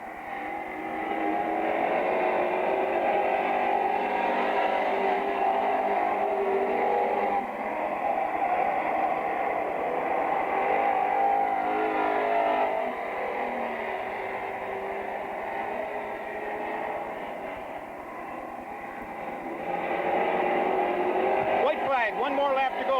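Race cars circling the Merrittville Speedway oval during a 2002 feature race, a steady blended engine roar from several cars at a distance, rising and falling as they round the turns, with a commentator talking over it throughout.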